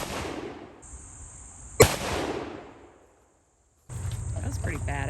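A single sharp, loud Mosin-Nagant rifle shot cracks at an outdoor machine-gun shooting range, followed by a long echoing decay; insects buzz before it, and after a brief silence noisy background sound and faint voices return.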